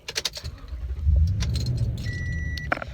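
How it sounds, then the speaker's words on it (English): Keys jangle, then the 5.7L V8 engine of a modified 2016 Toyota Tundra pickup cranks and catches at about one second, settling into a deep, steady idle close by. "One turn of the key, that truck has started up"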